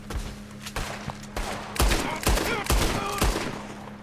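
Slowed Deadeye bullet-time gunshots in the Red Dead Redemption 2 video game, a series of about eight heavy, booming shots spaced roughly half a second apart over a low, constant hum.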